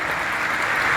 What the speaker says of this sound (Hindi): अच्छी ताली बजा करके स्वागत कर